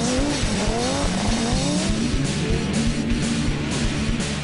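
A loud vintage race car engine revs and shifts through gears with tyres squealing at the Goodwood Festival of Speed, continuous and close, with rapid rhythmic bursts toward the end.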